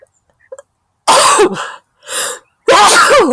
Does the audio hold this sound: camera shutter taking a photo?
no